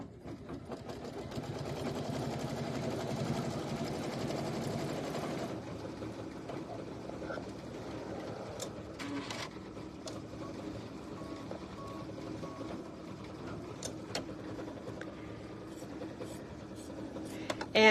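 A sewing machine stitches a trim line across the top of a KimberBell Pumpkins & Potions quilt block, humming steadily and loudly at first, then running more quietly with faint clicks.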